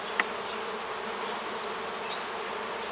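Honeybees from a queenless cutout colony buzz steadily around a hive board, a soft continuous hum with no voices.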